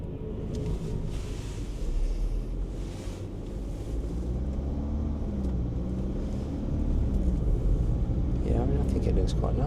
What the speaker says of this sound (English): big tractor. Let's see what that does.